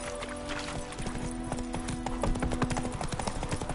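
Roach, Geralt's horse in The Witcher 3 video game, gallops with a steady, rapid clip-clop of hooves close by, a brief whinny rising over the hoofbeats and a low game ambience beneath.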